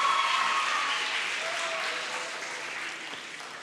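An audience at a regional memorial event claps to welcome a group of school students, a dense, steady applause that fades gradually over a few seconds.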